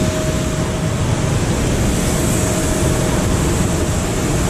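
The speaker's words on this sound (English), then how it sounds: "Big engine, Rolls Royce." A big Rolls-Royce aircraft engine drones as a loud, steady broadband roar with a thin constant whine, heard from inside the plane before departure.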